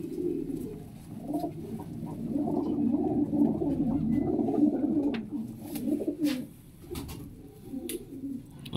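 Pigeons in a Faisalabad loft coo steadily in low, throaty rolling phrases, several birds overlapping close by, with a few faint higher chirps and clicks in the background.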